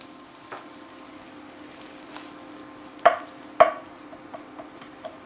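One medium onion cooks in a pot with roux for a Cajun meatball stew, a soft sizzle under a few distinct scraping stirs and clinks of the spoon.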